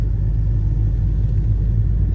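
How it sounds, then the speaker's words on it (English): A 2017 Fiat 500 Abarth idles inside a parking garage, its exhaust giving a steady, loud, enclosed low rumble with no clear revs or turbo whoosh standing out. "you can actually get a great listen to this car's exhaust note and the turbo noises that it makes"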